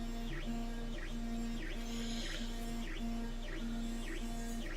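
A printer running on a tinkering workbench, giving a steady mechanical hum with a regular repeating whine that sweeps up and down about once a second, continuous and fairly quiet with no talk.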